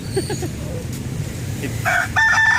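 A rooster crows near the end, a loud drawn-out call rising over steady background noise, preceded by softer bird sounds.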